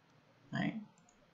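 A single computer mouse click, short and crisp, sounding once alone against a quiet background.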